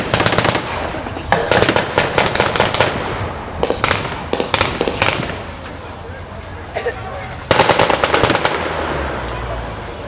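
Automatic weapons in a smaller calibre, mostly 9mm, fire blank bursts at a 1940s weekend battle reenactment in Ramsbottom, rapid loud rattling volleys with brief pauses, heard outdoors at fairly close range while a commentator talks over them.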